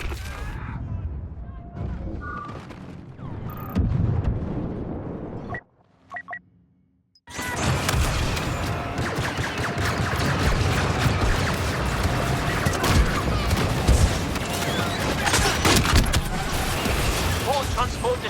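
Transport ships explode in Star Wars Battlefront II, a dense, loud roar of blasts and battle noise that breaks off for a moment and then surges back, with voices calling out over it.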